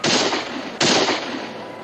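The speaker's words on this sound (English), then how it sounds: "Shots are coming from the garrison, all right, but they're not shooting at us." Gunfire from a frontier garrison, heard as two sharp, loud bursting cracks less than a second apart, each trailing off in a long, noisy echo.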